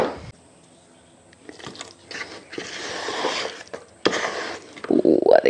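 Water is stirred into powder in small additions during a home renovation, making wet squishing and sloppy mixing sounds that build louder toward the end, close by.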